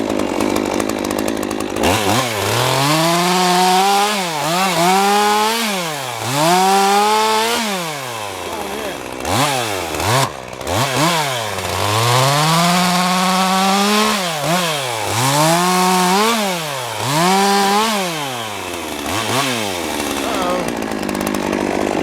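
A chainsaw cuts slices through a big blown-down fallen tree, loud and close, its engine repeatedly revving up and bogging down under load in rising and falling sweeps with brief dips between cuts.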